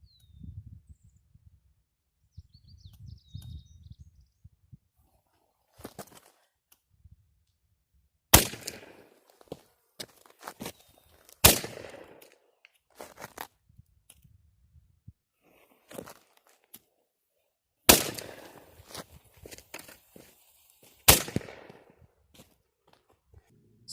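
Miniature artillery cannons fire a series of sharp, loud reports, roughly four main bangs spaced several seconds apart with smaller pops between, each cutting through near-silence with a brief crackling tail.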